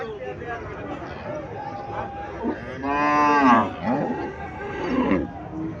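A Friesian cow at a rural cattle market gives one loud, drawn-out moo in the middle, rising over the steady murmur of people talking nearby.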